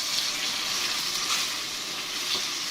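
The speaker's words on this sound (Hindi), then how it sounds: "भुनाई करूंगी 2 से 3 मिनट अदरक लहसुन की चिकन के साथ" Ginger, garlic and chili paste frying with chicken for Hyderabadi chicken biryani, a steady, close, bright sizzle with crackling spatter that continues without pause.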